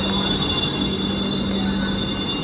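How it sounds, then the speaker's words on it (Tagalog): A light rail train in Tuen Mun, Hong Kong rumbles past close by, a loud steady roar of wheels on rails with a humming, faintly squealing tone running through it. "Ito yung LRT."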